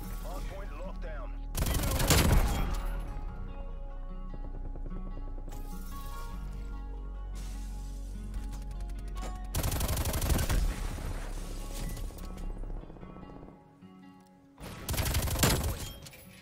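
Bursts of rapid automatic fire from a Stoner 63 light machine gun in a Call of Duty-style multiplayer hardpoint match, several loud sustained volleys separated by quieter gameplay sounds and background music.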